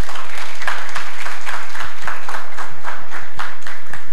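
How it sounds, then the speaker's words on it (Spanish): An audience applauds steadily, a dense wash of many hands clapping at a fairly loud, even level for a few seconds. "La recibimos con un muy fuerte aplauso."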